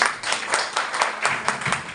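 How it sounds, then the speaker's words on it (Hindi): Audience applause at an indoor business training session, a dense steady patter of many hands clapping close and loud for about two seconds, with a few louder bursts and no talking over it. "इनके लिए तालियां बजा दीजिए।"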